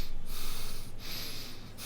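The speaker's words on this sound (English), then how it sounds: "Suppose at normal pace I am breathing like this" A person breathes at a normal pace close to the microphone, with a loud, airy inhale and exhale cycling in a steady rhythm.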